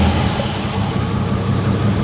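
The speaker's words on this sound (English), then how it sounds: "half the V12, so 6 cylinders, is running like crap, misfiring like crazy" BMW V12 engine idling with one bank of six cylinders misfiring, a continuous rough, uneven low rumble heard up close and loud with no voices.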